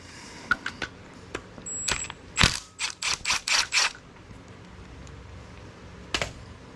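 Rapid ratcheting clicks in short bursts from a socket wrench backing out the cam bolt on a Willys Jeep F-head engine, close and fairly crisp with brief pauses between pulls.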